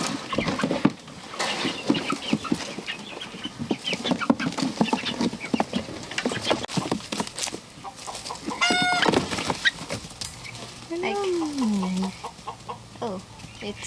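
Chickens cluck and murmur close by among other farm animals, with a person talking softly over them and some shuffling movement throughout.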